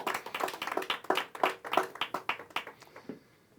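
A church congregation claps in a brisk, fairly even rhythm of about a dozen sharp claps at moderate distance, tapering off toward the end.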